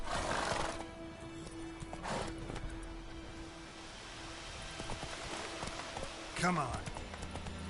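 Roach the horse in The Witcher 3 whinnies near the start and again later, with hoof clip-clops trotting in between over a low game background, while someone speaks briefly.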